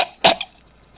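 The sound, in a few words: cough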